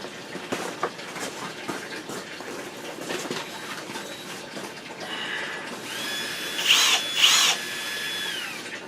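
A power drill whirs into a board in two short, loud bursts near the end, after scattered knocks and handling noises.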